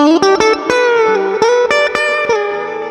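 Electric guitar without mid boost plays notes and chords picked in a quick phrase, clean with a slightly scooped, thinner midrange tone and some sustain ringing out at the end.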